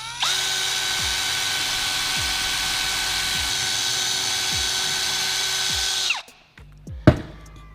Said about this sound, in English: We're just going to drill a hole in our grommet.